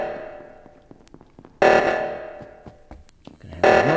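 Among Us reactor meltdown alarm in loud repeated blaring bursts with a steady tone, the first around the middle of the stretch and another near the end, between quieter game noises.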